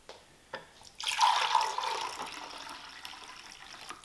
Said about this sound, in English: I have a little bit too much water in here. So I'm gonna have to pour some of this out